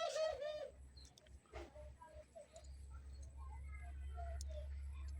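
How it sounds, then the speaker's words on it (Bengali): A three-month-old dove gives soft, faint coos, with a few short chirps and clicks against a steady low background hum, close to the listener and largely alone. "এটা আমার নতুন একটা দোল ঘুঘু বয়স তিন মাস প্লাস হালকা পাতলা ডাকে"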